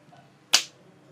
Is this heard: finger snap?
yes